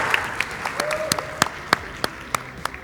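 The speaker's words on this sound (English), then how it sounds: "Round of applause for yourselves." Hackathon participants applaud at the close of a 24-hour game-building event, with scattered sharp claps over a noisy room and some voices in the background.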